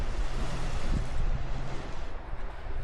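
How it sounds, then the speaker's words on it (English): Rough sea waves wash and roar continuously along the rocky Guernsey coast, with broad surf noise and some wind buffeting the microphone. "when the sea is rough, the waves clash together and rise up where they collide"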